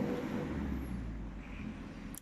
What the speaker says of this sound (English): if you hear any traffic noises in the background